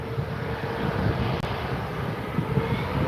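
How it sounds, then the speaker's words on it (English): A Jet2 Airbus A321neo departs Manchester Airport runway 23L bound for Rhodes, a steady broad engine roar holding even throughout the moment. "next to go, Jet2, Airbus A321neo, off to Rhodes"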